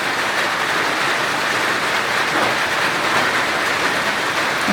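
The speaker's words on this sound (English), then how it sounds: "it's raining here" Steady rain pours outdoors as a dense, even hiss that fills the whole stretch without a break, with no voices over it.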